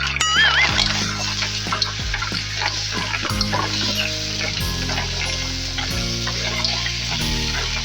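Mussels hit a hot pan with chopped green chili and other ingredients and sizzle loudly and steadily, while stirring clatters and scrapes come through close by.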